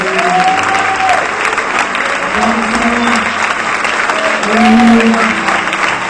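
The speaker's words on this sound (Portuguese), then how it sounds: "A igreja aplaude o Senhor e diz amém." A church congregation applauds steadily throughout, dense clapping from many hands, with voices and singing tones rising within the crowd noise.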